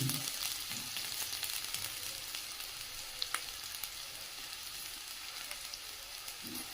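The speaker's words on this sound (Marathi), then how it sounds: "तोपर्यंत इकडे गॅस पेटवला आहे, त्याच्यावर तेल ठेवलं आहे गरम करायला. की त्यात मी आता कांदा टाकणार आहे." Onion frying in hot oil on a gas stove, a continuous close sizzle with a few crackling pops, steady and even throughout.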